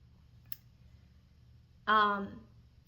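After a faint click, a cat wailing at a door lets out one drawn-out, wavering meow nearby in an otherwise quiet room.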